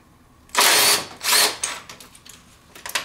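A power tool drills out 8mm bolts holding fuel injectors during a swap to FIC 105lb injectors, giving two loud, close whirring bursts followed by fainter ratcheting clicks and rattles.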